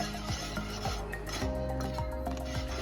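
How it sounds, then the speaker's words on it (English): Sausage gravy is stirred in a pan, giving a steady scraping and rubbing of a utensil along the pan bottom over a faint low sizzle, close-up and continuous with no talking. "Gotta keep stirring, y'all. Please keep stirring. You don't want it to stick."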